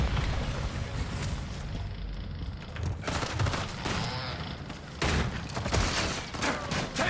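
Sustained gunfire from a first-person shooter played at max settings, with dense rapid bursts and booming shots overlapping continuously, loud and close throughout.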